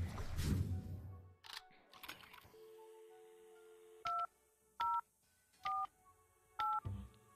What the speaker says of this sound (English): Make a phone call again.